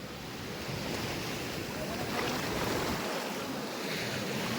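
Sea waves surge and wash along the shore at Marina Beach, a continuous broad roar with wind buffeting the microphone and no voices.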